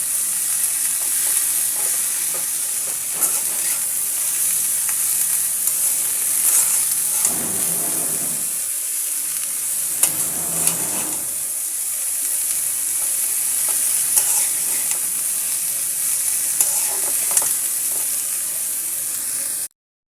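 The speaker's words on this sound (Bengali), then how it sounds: "আমি ভাজিটা সুন্দর করে লবণের সাথে মিশিয়ে নিচ্ছি।" Pui shak flowers sizzle steadily in a pan while being stirred and mixed with salt, with a continuous close frying hiss broken by louder scraping stirs and occasional clinks.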